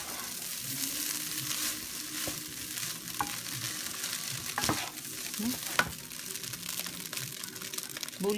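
Fried rice frying in oil in a pan, a steady close sizzle with occasional stirring scrapes and light clinks running throughout, no voices over it.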